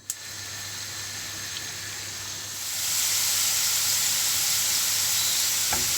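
Potatoes fry in oil and butter in a pan, a dense hissing sizzle that swells louder partway through and then holds steady, close up with no talking.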